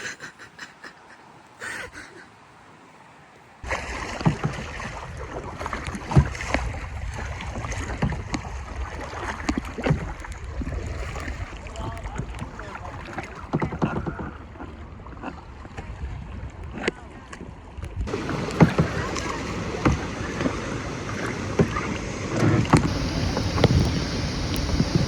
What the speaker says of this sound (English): we're about to go kayaking on a waterfall tour